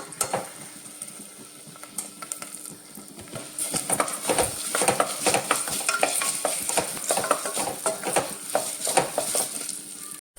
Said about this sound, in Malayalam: പരിപ്പിട്ടിട്ട് നല്ലോണം ഒന്ന് വറുത്തെടുക്കാം